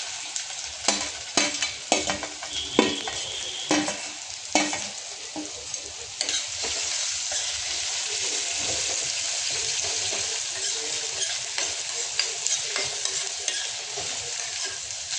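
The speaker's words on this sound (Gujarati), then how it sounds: "બટર મેલ્ટ થઈ જાય એટલે એમાં નાખી દઈશું આપણે લસણ" Garlic sautés in melted butter in a pan for Mexican rice, with a continuous close sizzle and sharp, irregular clatters of a spoon stirring and scraping, busiest at first and then steadier.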